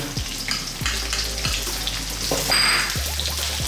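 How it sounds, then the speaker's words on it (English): Onions, fresh chili, chopped garlic, curry leaves, rampe and local cinnamon fry in a pan for a Sri Lankan potato curry, a close sizzle and spatter with several quick tossing swishes. "we're going to throw this around the pan for about just 2 minutes"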